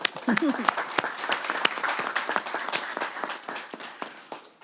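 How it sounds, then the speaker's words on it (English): Audience applause at a university board of trustees meeting, a steady round of many hands clapping close by for the full length, with a voice briefly audible near the start. "I'm going to clap again."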